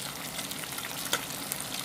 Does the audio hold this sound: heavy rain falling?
no